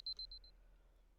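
A cell phone alarm in the visual novel game Labyrinth of Grisaia, a quick run of short electronic beeps that fades out within half a second, leaving near silence.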